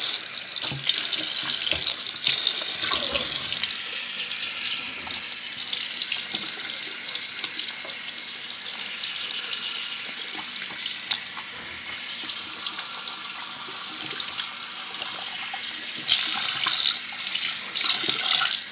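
Running tap water pours steadily as bentonite clay is rinsed out of hair, a loud continuous hiss and splash that shifts in tone as the hair moves through the stream, with no talking.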